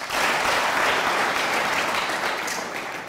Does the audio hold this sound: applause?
yes